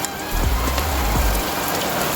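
Steady rain patters outdoors beside an open-air cooking spot, a dense close hiss of drops striking surfaces with a few low thumps early on.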